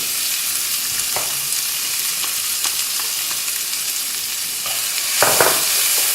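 Onions, garlic and ginger frying in spiced oil in a pan, a loud continuous sizzle with occasional stirring scrapes and a burst of spattering near the end, close and without speech.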